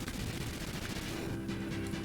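Cannon blowing up in the video game Front Mission: Gun Hazard, heard as a dense, continuous barrage of explosive blasts and crackling gunfire, steady and fairly quiet throughout with no talking.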